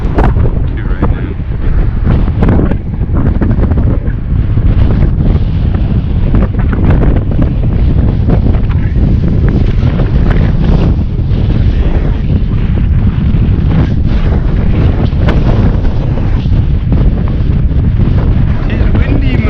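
Heavy, continuous wind buffeting a microphone on an Amyet G60 electric scooter at speed, a loud low rumble that roars steadily throughout with no pauses.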